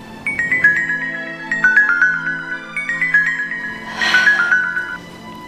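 An incoming-call ringtone on a phone plays a repeating melodic tune in short bursts, loud and close, with no talking over it.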